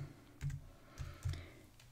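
Three or four soft taps on a Mac keyboard during a Finder tag search, spaced irregularly with slight thumps, close by and without speech.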